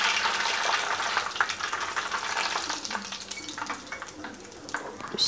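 Peanuts dropped into hot oil already holding cumin and mustard seeds, sizzling and crackling loudly and continuously at close range, with bright spattering pops throughout.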